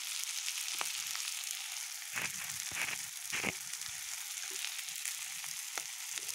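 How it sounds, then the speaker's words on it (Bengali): Eggs frying in hot oil in a pan, a continuous close crackling sizzle with a few louder bursts of spatter and stirring scrapes, steady throughout with no voices. "এখন ডিমগুলো ভেজে নেব, ডিমগুলো লাল লাল করে ভেজে নিয়েছি।"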